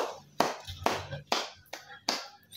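A handful of sharp, evenly spaced claps, about five in a couple of seconds, sounding fairly close, from an audience at a Senegalese political address praising Macky Sall.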